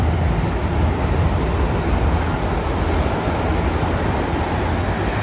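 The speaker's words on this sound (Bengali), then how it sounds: "ট্রেন চলছে" A Long Island Rail Road train runs steadily, giving a continuous broadband rumble and rolling noise at moderate level with no distinct breaks, heard without speech.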